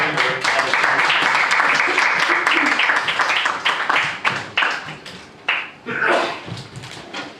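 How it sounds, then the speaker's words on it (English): An audience at a magic show applauds a volunteer with loud, dense clapping that thins into scattered claps, with a dog barking and whimpering in among it. "Big round of applause for Ashton."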